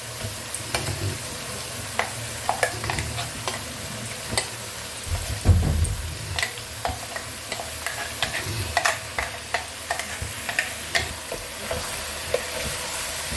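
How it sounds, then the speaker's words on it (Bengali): Mutton masala curry with a freshly added spice paste sizzles in hot oil as a spoon scrapes and stirs the pan, giving a steady frying hiss broken by repeated clicks and knocks, close and moderately loud throughout. "আমি খুব ভালো করে কষবো এবার"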